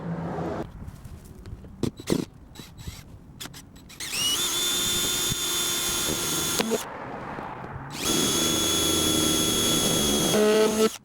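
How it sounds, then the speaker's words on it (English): Power drill boring holes through the plastic lid of a tote container being made into a trash can lid, in two sustained whining bursts with a few short clicks and knocks between them, loud and close with no talk. "I've drilled a couple holes just to get them started"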